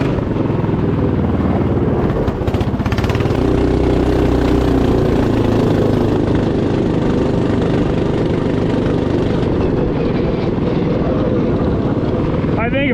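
A Honda Odyssey go kart engine in a junkyard-built kart with a non-stock secondary clutch runs loud and close, a constant buzzing drone that holds steady throughout with slight shifts in pitch as it revs.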